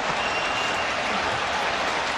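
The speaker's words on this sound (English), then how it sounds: "even the Toronto fans are cheering him on" A large stadium crowd roars and applauds for Zlatan Ibrahimovic's 500th career goal, with even the visiting Toronto fans joining in; the wash of cheering is loud, dense and unbroken throughout.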